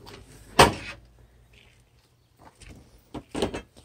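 A camper van bed sliding into the door section of a Poppy camper during disassembly, heard as one loud knock near the start, a quiet stretch, then a few rattling bumps and a final clatter toward the end.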